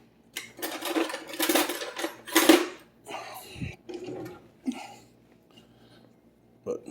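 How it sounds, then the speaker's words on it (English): A fork pats and rakes through Reuben dip in a baking dish, giving soft scraping and tapping against the dish in irregular bursts, close and moderately loud, with a few brief quieter gaps. "I'm going to take a fork here just to make it look a little decorative"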